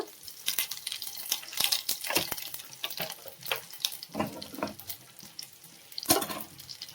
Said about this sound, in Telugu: మనమైతే ఇప్పుడు పోపు దినుసులు అయితే యాడ్ చేస్తున్నామండి చారులో.